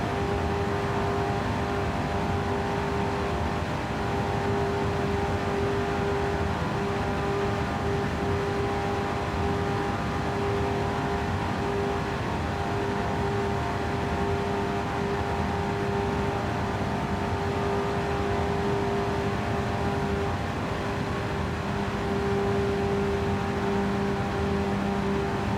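A supercar engine held at full throttle in Gran Turismo 7 on Special Stage Route X drones loud and steady throughout, a constant high-revving whine with little change in pitch.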